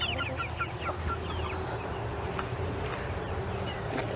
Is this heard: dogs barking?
no